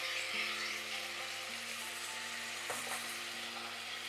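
Rice with salt and pepper is stirred in a soup pot and faintly sizzles, with a soft scrape partway through, quiet and close with no voices.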